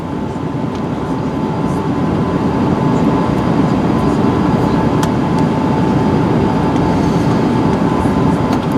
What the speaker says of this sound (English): My first takeoff on an my first takeoff on an Airbus A380.